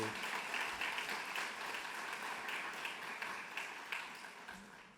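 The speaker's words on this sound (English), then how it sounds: "Let's have another round of applause for Dr." A crowd applauds Dr. Isiobu at a white coat ceremony, a steady, fairly faint wash of many hands clapping together that continues evenly throughout.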